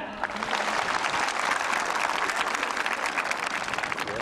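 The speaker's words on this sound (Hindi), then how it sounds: "एक बार समस्त छात्र छात्राएं एक साथ सामूहिक रूप से तालियां बजाएं" Students at a school event for National Voters Day clap together in sustained, dense group applause, steady and moderately loud for the whole span with no talking over it.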